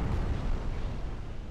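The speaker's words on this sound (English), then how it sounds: "Well, we got torpedo hit, at least." Torpedo hit explosion in the naval warship game Ultimate Admiral Dreadnoughts: a dense, rumbling low boom that holds steady at full loudness for over a second with no voices.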